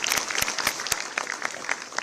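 A crowd applauds at a government event honouring girls' achievements, with steady, dense clapping throughout and sharp individual claps standing out.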